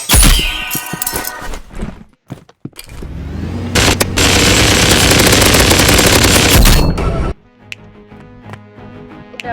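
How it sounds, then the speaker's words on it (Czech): Minigun firing in a video game: rapid, loud bursts of automatic gunfire, with a long sustained stretch of continuous fire between shorter bursts and booming impacts, then a quieter rumbling tail. "Jdeme a minigun, a rovnou se protrénujem."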